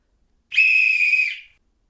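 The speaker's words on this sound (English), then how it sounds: "she blew upon her silver whistle that hung around her neck" A silver whistle hung on a neck chain gives one clear, steady shrill blast of about a second. It is loud and close and fades quickly, with no other sound around it.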